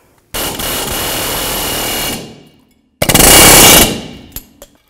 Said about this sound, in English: I like to use an air hammer.